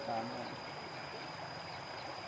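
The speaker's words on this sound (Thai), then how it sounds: "เสียงน้ำไหล" Water flows in a steady, soft rushing hiss in Vang Vieng, Laos, with a faint high insect-like whine and a brief murmur of voices at the start.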